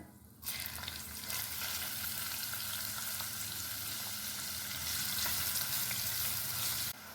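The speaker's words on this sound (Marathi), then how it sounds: "हा कांदा आपल्याला गॅसची फ्लेम लोच ठेवून हलकासा तांबूस रंग येईपर्यंत चांगला परतून घ्यायचा आहे" Finely chopped onion fries in a pan over a low flame with bay leaf, cinnamon, cardamom and dried red chillies, a loud continuous close sizzle that starts abruptly and holds steady.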